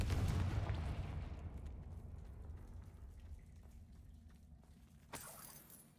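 Spell explosions from the video game Hogwarts Legacy: a heavy, booming blast that slowly decays into a rumbling, crackling tail, followed by a sharp impact about five seconds in.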